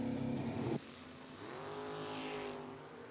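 At a drag strip, a Camaro and a Corvette race off, engines roaring loud and near, with a high whine and a steady rising tone as the cars pull away.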